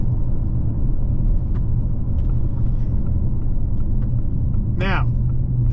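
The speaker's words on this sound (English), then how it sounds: "just a really nice, smooth ride out of this Corsair" A 2024 Lincoln Corsair Premiere II on the C2 Ford platform, cruising down the road, with a steady low cabin rumble of engine and tyres throughout and a brief voice briefly rising above the drone near the end.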